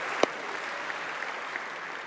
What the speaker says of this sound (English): Let's give a big round of applause for Robert Flores.